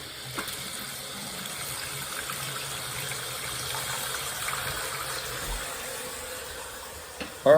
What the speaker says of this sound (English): Now you're gonna get some air out of your faucet, whichever one you're using to do the maintenance.